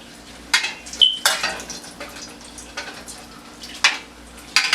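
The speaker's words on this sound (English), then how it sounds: "Keep bathing it with oil." Metal spoon clinking and scraping in a pan as hot oil is ladled over frying fish, a series of sharp, close knocks spaced irregularly with a faint sizzle beneath.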